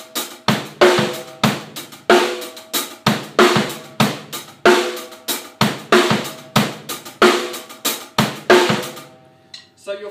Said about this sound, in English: The basic pattern for the drum beat is a bass drum on beat 1.